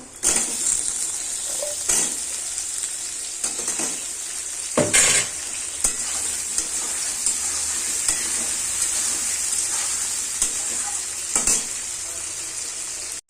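Steady sizzling of potatoes frying with salt and turmeric in a pan, with occasional scrapes and clinks of a spoon stirring, close and continuous.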